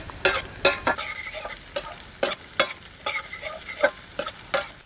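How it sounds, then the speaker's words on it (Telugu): Sliced onions fry in a pan for an aloo fry, a soft sizzle broken by regular scraping strokes of a spoon stirring them, close and fairly loud with no talking. "ఉల్లిపాయలు కొంచెం కలర్ మారే వరకు ఇలా వేయించుకుని తర్వాత ఆలుగడ్డ వేసేసుకుందాం"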